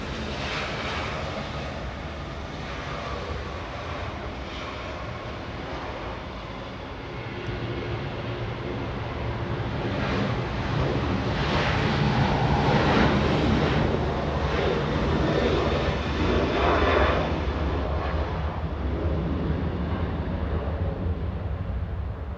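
Avianca airliner from Guatemala City arriving at LAX, a continuous jet engine roar that swells louder toward the middle and stays heavy to the end, with no talking.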